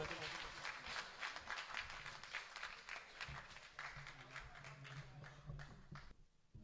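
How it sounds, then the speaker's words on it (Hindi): Crowd applause at a poetry recital (mushaira), a fairly faint patter of clapping that runs steadily and then stops abruptly near the end. "जोरदार तालियों से इस्तकबाल के मोहतरम आदिल।"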